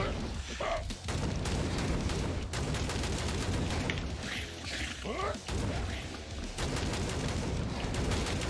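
Enemy gunfire in the first-person shooter Hellbound: dense bursts of shots and booms crackle throughout, loud and close, with someone talking over the action at times.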